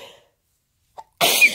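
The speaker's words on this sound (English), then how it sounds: "I need to sneeze" A single human sneeze, sudden and close, bursting out after a short quiet intake, with a faint breath beforehand and no talk.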